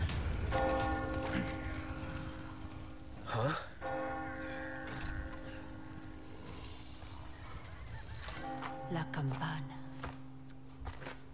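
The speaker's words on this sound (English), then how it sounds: "What? Oh, the bell." A church bell tolls in the Resident Evil 4 Chainsaw Demo, ringing sustained tones that linger and overlap with game sounds, while a person talks over it.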